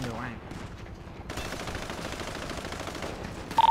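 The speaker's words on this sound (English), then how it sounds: "Cops are shooting us." Police gunfire in a GTA roleplay game, with sustained rapid shots crackling steadily through the clip and a few louder bursts near the end, while voices talk over it.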